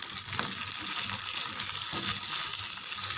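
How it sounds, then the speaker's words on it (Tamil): Chana dal sautés in a frying pan with a steady, close sizzling hiss that runs evenly throughout, with no voices. "2 நிமிஷம் நல்லா வதங்கட்டும்"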